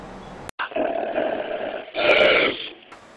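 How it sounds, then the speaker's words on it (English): A hungry dog growls low and rough over a piece of meat, a steady rumbling snarl that swells louder near the end, heard alone with no talking. "have you ever tried to take a piece of meat away from a hungry dog?"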